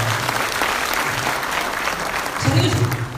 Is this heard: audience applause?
yes